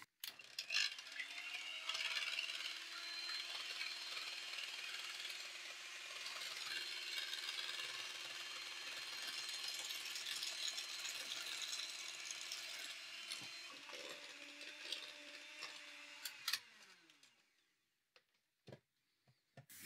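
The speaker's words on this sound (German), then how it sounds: "Ich gebe mir also das Eiweiß hier in meine Schüssel, fange das an aufzuschlagen." An electric hand mixer whips egg whites in a bowl, a steady whirring motor drone with beaters rattling against the bowl for about sixteen seconds before it stops, followed by a few faint clicks.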